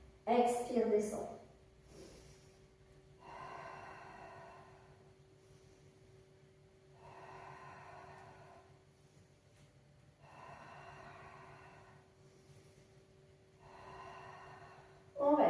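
Steady, audible breaths during a Pilates HIIT abdominal and back workout, slow inhale and exhale cycles repeating about every three seconds over a faint background hum, with brief louder bursts at the start and end.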